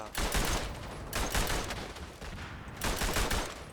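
Bursts of rapid machine-gun fire in the World War One shooter Verdun, three loud sustained volleys separated by brief pauses, close and harsh.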